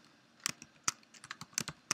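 Quiet, close typing on a computer keyboard, a quick irregular run of sharp key clicks over about two seconds with no talking.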